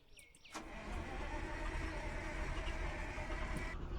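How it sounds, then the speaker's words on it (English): Truck engine in The Wasteland Trucker video game, heard as a steady mid-pitched idle that starts abruptly after a brief quiet lead-in and keeps running evenly throughout. "Okay, truck's running."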